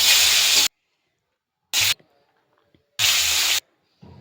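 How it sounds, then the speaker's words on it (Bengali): Fish frying in a pan for ucche alu macher jhol, heard as three short, loud bursts of hissing sizzle separated by near silence. "প্রথমে আমি মাছটা ভেজে নিচ্ছি"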